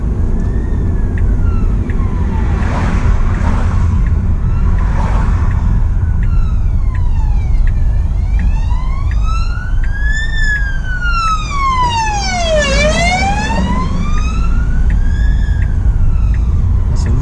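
An ambulance siren wails in loud, sweeping rises and falls throughout, passing close over steady road and engine noise near a roundabout during a driving lesson, with a few brief voices inside the car.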